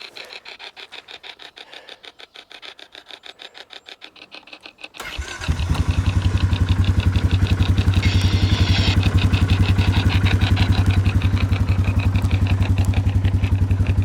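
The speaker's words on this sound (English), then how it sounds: "Once I start that bike, I'm not looking back." A motorcycle engine cranks over quietly for several seconds, then catches with a sudden roar and settles into a loud, steady idle with a rapid, even throb that carries on to the end, with no talking.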